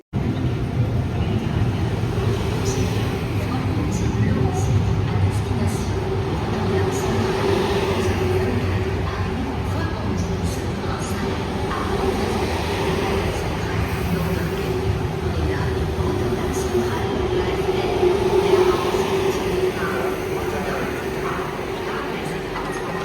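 Steady rumble and rattle inside a crowded passenger train travelling in Belgium, a loud continuous drone with faint background murmur throughout.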